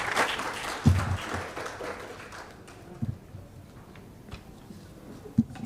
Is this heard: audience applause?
yes